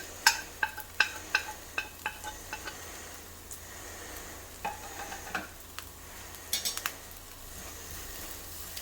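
Squid stirred with curry powder in a pan, giving a quick run of clinks and scrapes from the utensil early on, then sparser taps over a soft sizzle, fairly quiet with no talking.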